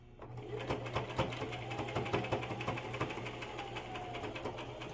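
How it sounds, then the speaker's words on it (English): A sewing machine stitches fabric for tailoring lower-body garments, a loud steady rapid needle clatter running continuously from start to finish. "worried about not knowing how to use a sewing machine, it's not that complicated"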